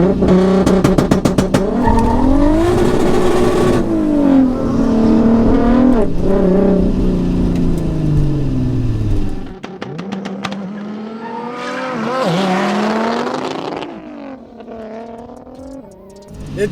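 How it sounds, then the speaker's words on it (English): A 1014 hp twin-turbo Audi R8 and a 770 hp VR6 turbo Audi A3 in a street drag race: loud engines rev and launch together, tires squeal, then exhaust pitch climbs through gear changes before settling into a distant fading roar. "So next up, it's the drag races."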